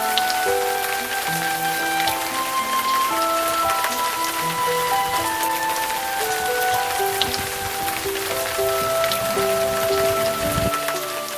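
Steady rain and wind in Beg-Meil patter on a surface throughout, with scattered drops and some faint tonal sounds in the background; no voices.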